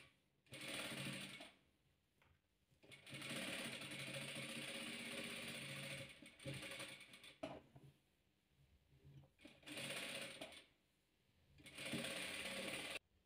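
A sewing machine stitches around the edge of a fabric square for a patchwork quilt, running in several bursts of rapid whirring separated by short pauses and the occasional click.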